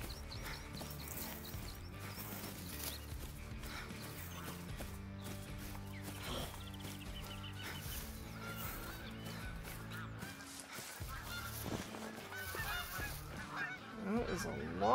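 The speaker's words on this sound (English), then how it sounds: "That is a lot of geese." Dense flock of geese honking continuously in a hunting video game, a loud layered chorus of overlapping calls with occasional hoof-like clip-clop, steady throughout with little talk.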